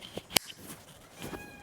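A cat gives a few short meows close by, one sharp and loud near the start and softer ones after it, scattered across a brief moment with no talk.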